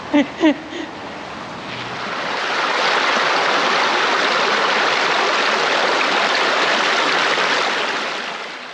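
Water in a valley stream rushes steadily, a broad, loud hiss that swells after a couple of faint knocks at the start and keeps going without a break.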